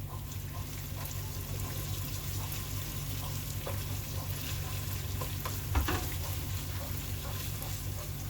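Tomato paste fries in a pot for a Ghanaian cabbage stew, giving a constant close sizzle over a low steady hum. One brief clatter comes near the end.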